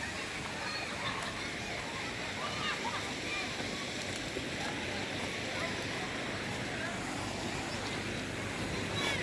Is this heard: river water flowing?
yes